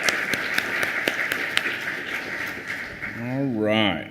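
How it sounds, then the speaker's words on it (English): Audience applause at a staff event, a scattered patter of clapping under a speaker's voice, followed by a short voiced sound near the end. "I'm going to give her a round of applause because she deserves it"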